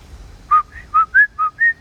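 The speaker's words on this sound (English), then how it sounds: "So you hear this one bird, but you don't hear the other bird chirping back to the bird." A single bird chirps five times in quick, evenly spaced whistled notes that alternate slightly in pitch, clear and close with a mechanical, unvarying regularity over a low background hum.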